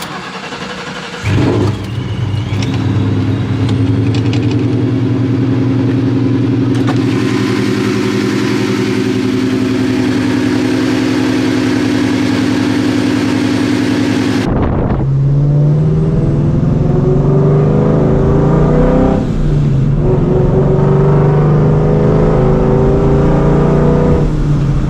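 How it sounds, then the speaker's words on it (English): Supercharged New Edge Mustang GT with a hood upgrade, 450 hp, starting cold: a loud, close engine catches and settles into a steady, rough idle, then a sharp shift midway into higher revving with rising and falling engine notes. "Alright, let's get this cold start."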